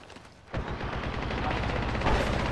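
Rapid automatic gunfire in the Apex Legends battle game bursts out suddenly and continues as a dense, loud, sustained volley.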